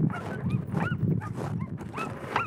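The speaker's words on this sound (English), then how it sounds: "That's my oldest dog there." An old Greenland sled dog whines and whimpers in rising, pitched cries, repeated several times over a steady low outdoor background.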